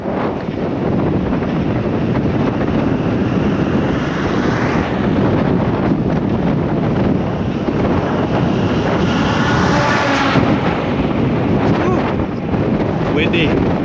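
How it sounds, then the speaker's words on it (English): Strong wind buffets the microphone during a bicycle ride through the Polish countryside, a loud continuous roaring rush that never lets up, with faint hints of other sounds beneath it. "Windy."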